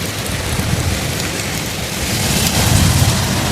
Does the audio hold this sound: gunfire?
no